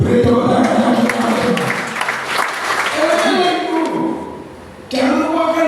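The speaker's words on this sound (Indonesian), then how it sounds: "Beri tepuk tangan yang besar" Applause from a church congregation rises as broad, continuous clapping that fades out and then surges again, heard under and alongside a preacher's amplified voice.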